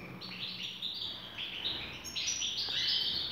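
A pair of nesting birds, likely finches in an aviary, chirps and tweets in repeated bright, high calls throughout, fairly close and continuous with no talking.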